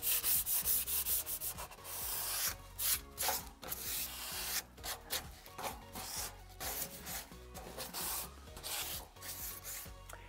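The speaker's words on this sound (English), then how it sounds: "I'm going to give it a tickle again with the sandpaper pad" Sandpaper pad rubbing over a painted radiator between coats of chalk paint, a steady run of rhythmic, fairly loud scratchy back-and-forth strokes with brief pauses, heard alone without talk.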